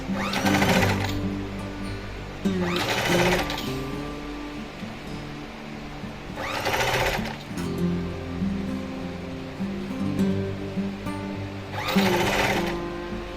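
A sewing machine stitching a sleeve cuff hums steadily up close, with periodic louder rushes of fabric handling and rustling over the continuous motor drone.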